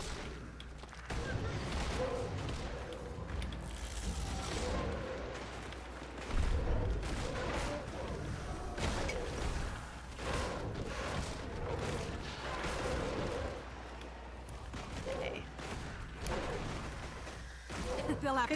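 Pistol gunfire in the video game Guild Wars 2, repeated shots amid a dense battle mix of impacts and effects, running steadily throughout with someone talking over it.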